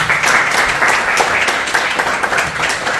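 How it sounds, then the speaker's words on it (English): A summit audience breaks into dense, continuous applause for a panel, a loud wash of many hands clapping together throughout with no pauses. "Can we have one more round of applause for our panelists?"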